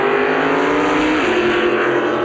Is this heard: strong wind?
no